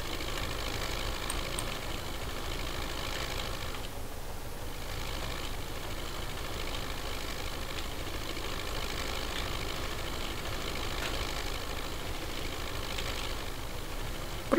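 An MTZ 82 tractor engine pulling logs in the forest in Farming Simulator 19 gives a steady, loud diesel drone that runs unbroken throughout with no voices.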